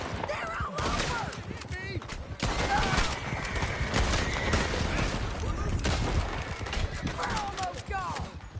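A chaotic gunfight on horseback in Red Dead Redemption 2: rapid overlapping gunfire and the drumming of galloping hooves, with a couple of horse whinnies, all under shouting voices.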